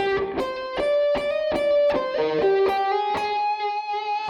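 Electric guitar played through a Fractal FM9 on a Mesa Boogie amp model with a gain pedal engaged, giving a singing lead tone. A quick run of sustained, overdriven notes with clear plucked attacks ends on a held ringing note.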